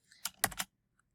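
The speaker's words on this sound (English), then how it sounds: "now I'm just going to type in" Several quick, soft keystrokes on a computer keyboard, a short burst of clicks close by followed by silence and one faint tap.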